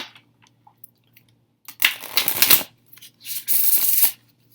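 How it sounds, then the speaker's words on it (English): Two quick bursts of oracle cards riffle shuffling, a fluttering ripple each time, with a faint bridge tap between and quiet pauses around them. "doing the riffle shuffle."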